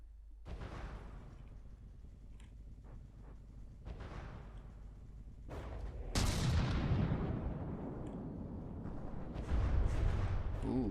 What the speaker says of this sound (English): A wide miss from the particle cannon.